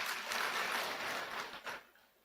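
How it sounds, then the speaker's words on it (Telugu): An audience at a Christian sermon gathering claps together in a steady, dense wash of applause that holds for a couple of seconds, then thins and fades out. "సంతోషంగా చప్పట్లు కొట్టండి"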